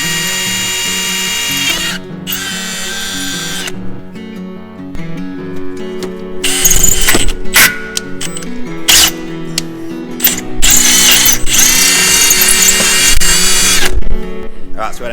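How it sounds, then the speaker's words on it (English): A power drill bores a hole through a vehicle heat shield for an EGT probe bung: a loud, steady whirring grind that surges and bites in bursts, with clattering metallic knocks and bits of speech near the tool. "I might just put the drill straight through that"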